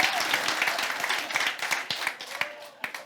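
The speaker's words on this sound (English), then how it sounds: "We're not clapping for me. We're clapping for the truth" Church congregation applauding during a Sunday sermon, dense clapping that thins into scattered individual claps, with some crowd voices mixed in.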